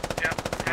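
Rapid automatic gunfire in the video game Operation: Jester, a tight, evenly spaced burst of about ten close, punchy shots in under a second, with a voice faintly underneath.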